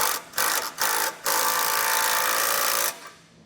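An impact wrench drives a nut onto a bolt while installing a base plate kit on a 2015 GMC Canyon, with several short loud bursts giving way to one sustained whirring run before it stops, close up and with no talk.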